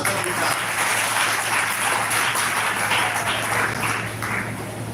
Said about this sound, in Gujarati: જોરથી તાળી પાડો.